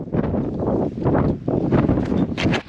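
Strong, blustery wind on the summit of Wheeler Peak buffets the microphone in loud, continuous gusts, with no clear voices above the roar.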